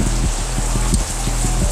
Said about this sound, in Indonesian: hujan rintik-rintik ya guys ya